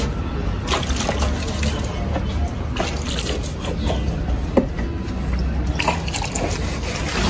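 Water sloshes and trickles as rabbit drinkers are cleaned by hand, a continuous nearby splashing and dripping with scattered clinks and voices talking over it.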